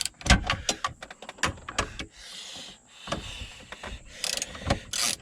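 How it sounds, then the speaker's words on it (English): Bolt being screwed down during repair of a Hummer H2 gearshift assembly, close ratcheting clicks and metallic knocks in irregular bursts with short pauses. "we're going to turn this counterclockwise and screw this down"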